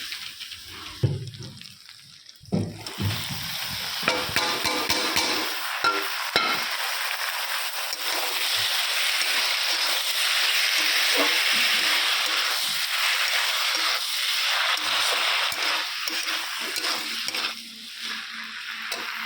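Banana flower (mocha) with shrimp sizzles in a pan with chilli powder, turmeric, sugar and salt, a continuous close frying hiss broken by scraping stirs and a few clatters of the utensil.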